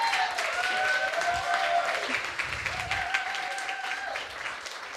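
Audience applause at a coding bootcamp demo day in Lisbon, a steady wash of clapping through most of the span with a few whoops and faint tonal whistles over it, tapering slightly toward the end.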